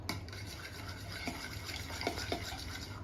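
A milk and sugar mixture for ice cream dosa batter is stirred steadily with a utensil, giving a continuous soft swishing with a few light clinks against the bowl.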